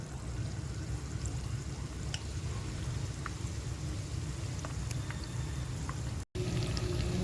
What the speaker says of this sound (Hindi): हल्की आंच पर इनको शैलो फ्राई कर लीजिए।